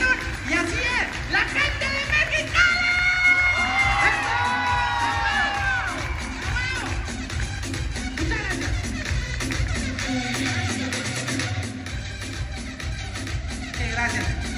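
A live audience at the Cevichurros show in Mexicali cheers, whoops and shouts loudly, with raised voices and some clapping in a lively crowd while a voice speaks over the noise.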